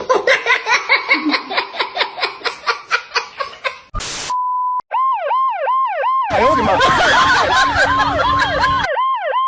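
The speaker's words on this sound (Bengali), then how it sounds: "এটা অ্যাম্বুলেন্স না, আসলে পুলিশের সাইরেন্স বাজাইতেছে এমনে" A loud, close police siren blares in a rapidly repeating wail, then pauses briefly before switching to a steady tone and resuming its cycling wail, with a burst of noisy clatter mixed in toward the end.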